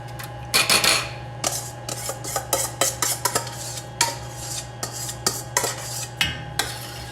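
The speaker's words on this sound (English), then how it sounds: "Give it a good stir." A spoon stirs homemade tomato gravy in a pot, giving a string of close scraping and clinking strokes against the metal in an irregular rhythm, with a faint steady hum underneath and no talking.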